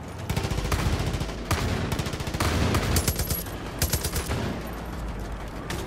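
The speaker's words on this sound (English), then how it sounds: "I'm just getting shotgunned to death" Repeated shotgun blasts and heavy gunfire in the video game Far Cry 5, loud rapid bursts crowding one after another in an irregular, chaotic rhythm throughout.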